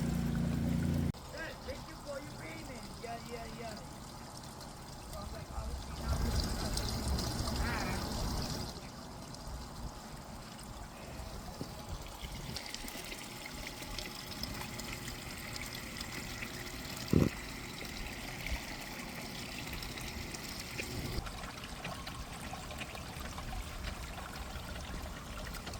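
A homemade pondless garden water feature built from shop scrap trickles and splashes steadily at low level, with handling noises, a brief bump and a sharp click partway through, no voices.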